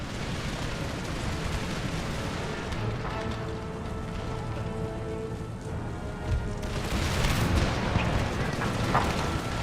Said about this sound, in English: Although they are firing at range.